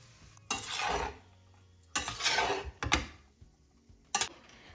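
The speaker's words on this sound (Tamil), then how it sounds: "பொடிலாம் மிக்ஸ் பண்ணிவிட்டு ஆற வச்சுருந்த ரைஸும் சேர்த்து நல்லா மிக்ஸ் பண்ணிக்கலாம்." Spice powder being stirred into cooked capsicum rice, heard as four scraping, rustling mixing strokes in irregular bursts, fairly close and moderately loud, with quiet pauses between them and no talk.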